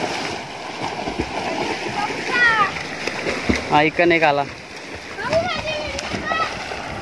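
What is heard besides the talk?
children jumping and splashing in water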